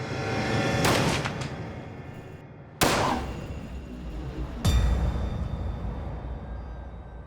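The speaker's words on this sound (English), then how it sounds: "she takes his gun and pulls the trigger" A gunshot fired indoors in a bedroom in a reenactment: three sharp, loud reports spaced a few seconds apart, each with a booming decay, no talking.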